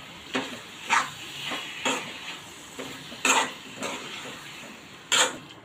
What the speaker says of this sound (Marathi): आता आपण वाटण घातलेलं आहे, मिक्स करून घेऊया